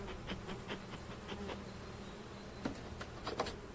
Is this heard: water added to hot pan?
no